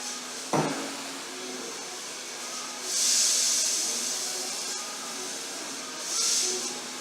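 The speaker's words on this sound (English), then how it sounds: "quick spritz" A spray bottle spritzes hair during a finger-wave and curl styling session: two soft, airy hisses a few seconds apart, close and alone over a quiet background.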